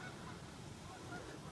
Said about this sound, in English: It's a baby gaggle of geese.